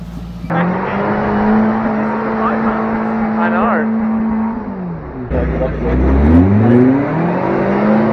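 A Suzuki Vitara off-roader drives and revs its engine, with a steady engine drone that dips around halfway and then rises again in pitch. Loud and close throughout, with talk over the engine.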